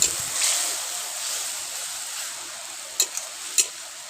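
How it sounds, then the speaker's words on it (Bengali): Ginger paste with chili powder, turmeric and salt fries in a pan over a high flame, a steady soft sizzle broken by two or three sharp spoon scrapes near the end. "এবার এই মশলাটাকে একটুক্ষণ ভালো করে কষাতে হবে"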